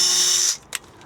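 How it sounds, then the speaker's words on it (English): A drill whirs steadily while pre-drilling a hole in wood for camper van storage, a loud high whine for half a second that stops abruptly, followed by a small clack. "always pre-drill your holes"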